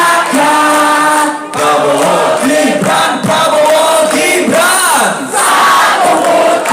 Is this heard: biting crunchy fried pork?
no